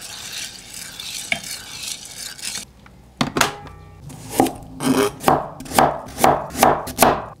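A knife chops a carrot into small pieces on a cutting board, first with faint soft scraping, then a run of firm, evenly spaced thunks that grow steady toward the end, close and clear with no talking.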